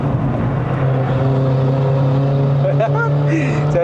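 A 2015-era W205 Mercedes-Benz C180 AMG Line accelerating on a mountain road up to Genting, Malaysia, with a steady loud engine drone that rises in pitch, heard from inside the cabin while people chat over it.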